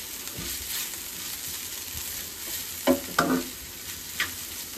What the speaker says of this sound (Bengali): এইখানে আছে বেগুনটা ভাজি করবো।